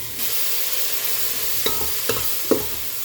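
Tomatoes and curry leaves frying in a pan for drumstick dal give a steady sizzle, with three sharp stirring clatters near the end.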